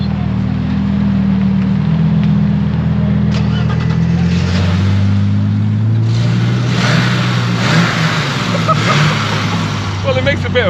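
Straight-six car engine idling with a deep rumble before revving in several loud bursts close by, with people talking over it.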